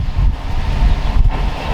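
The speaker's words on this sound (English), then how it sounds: "But this summer we had a lot of days that were violently windy like this." Strong wind in the Wyoming mountains buffets the microphone in heavy, roaring gusts, a loud low rumble that surges and eases in waves.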